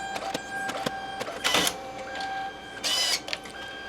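A photo booth printer prints photo strips and a 4x6 print in two bursts of mechanical whirring and feeding, with softer clicks and motor hum between them, recorded close.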